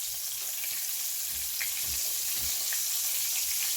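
Pork frying in a pan of hot oil gives a steady, close hiss and sizzle, with a few soft bumps and pops scattered through and no talking.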